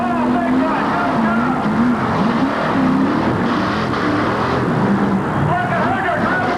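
Ford Bigfoot and Chevrolet monster trucks race side by side, their engines roaring loudly with rising and falling revs and a gritty rumble throughout, while an announcer talks excitedly over the noise.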